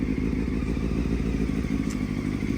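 A 1998 Honda CBR600 motorcycle engine idles on a test run, a steady, close, continuous low rumble with faint mechanical clatter and no voices.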